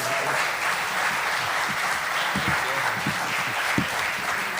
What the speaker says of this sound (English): Can we give our 5 panelists a big round of applause?